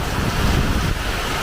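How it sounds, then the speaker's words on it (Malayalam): Strong wind blows in a loud, steady rushing gust with a deep low roar and buffeting against the microphone. It lasts briefly and no one talks. "നല്ല കാറ്റാണ്"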